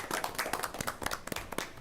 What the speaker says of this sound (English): propose a round of applause.